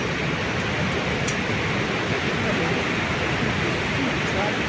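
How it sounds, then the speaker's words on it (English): Kaieteur Falls in Guyana roars as a dense, steady broadband rush of falling water, loud and constant throughout. "Visiting Kaieteur Falls, the tallest one-drop waterfall in the world."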